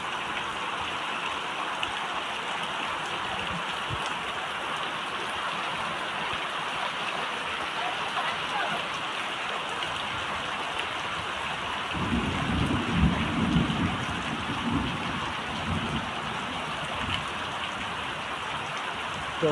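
Heavy rain pours steadily and loudly in a village during a yajna festival, a dense unbroken hiss with a low rumble of thunder swelling in the latter part; no speech.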